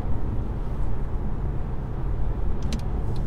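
A 2013 Mercedes C350 diesel car accelerating at half throttle on a motorway, with a steady, loud low engine drone and road rumble heard from inside the cabin.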